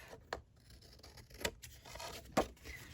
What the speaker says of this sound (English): I'm going to take my scissors and just trim off